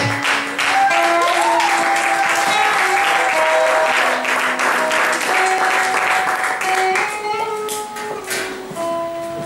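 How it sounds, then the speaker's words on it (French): A church congregation claps together as the pastor approaches, steady rhythmic applause throughout with voices and tonal sounds rising over it, fading slightly toward the end. "nous applaudissons pour le Seigneur"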